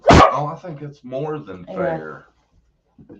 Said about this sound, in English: That was the dog barking at the cat.